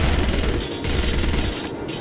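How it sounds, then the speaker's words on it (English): Suppressed SMG in the video game Soldier of Fortune, a dense, continuous spray of muffled rapid shots lasting about two seconds with game noise underneath. "Let's bring out the suppressed SMG."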